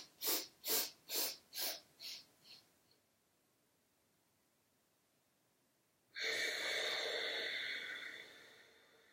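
Segmented breathing in a chakra practice: six short, rhythmic breaths that fade one after another, a few seconds of near silence, then one long, steady, airy exhale close to the microphone, alone with no talk.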